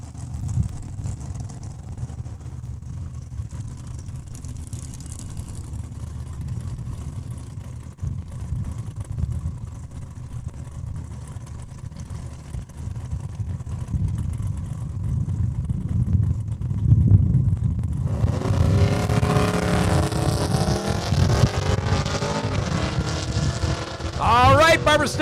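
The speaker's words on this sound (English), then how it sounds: "Barbara Stetner out of Regina with the 82 Camaro, going to make a single pass." A 1982 Camaro at Saskatchewan International Raceway in Saskatoon makes a single drag-racing pass: a long low rumble and wind gives way to a loud engine note that climbs steadily in pitch as the car launches down the quarter-mile.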